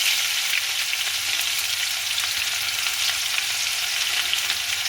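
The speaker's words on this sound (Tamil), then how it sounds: "எண்ணெய் நல்லா கொதித்து வந்துட்டு இதுக்குள்ளே நாங்கள் இடித்து வச்சுருக்கிற இஞ்சி உள்ளி பேஸ்ட்டை போடுறோம்" Ginger and garlic paste frying in hot oil, a steady loud hiss and crackle that runs unbroken throughout, close up with no voices.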